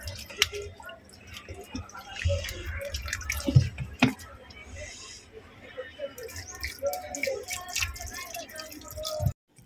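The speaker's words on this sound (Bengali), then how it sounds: "গড়িয়ে গড়িয়ে পানি পড়ে গেল" Water drips and trickles down among garden plants beside a henna shrub, scattered close drops and small splashes with a few louder thuds over a quiet background.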